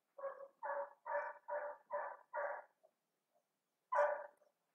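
A dog barks six times in a steady rhythm, then pauses before one final bark, heard fairly faint and at some distance in an otherwise quiet room.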